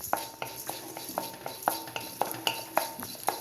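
Coriander seeds roasting in a little sesame oil in a pan, a soft sizzle under a steady run of about a dozen spoon-against-metal clinks and scrapes, close and without talk.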